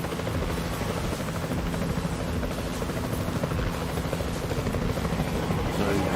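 Steady rotor drone of a helicopter in the video game Jurassic World Evolution 2, a continuous loud whir with a low hum, running throughout with possible talk mixed in.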